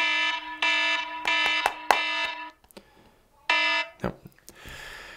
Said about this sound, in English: That's my 2 minute Tuesday alarm.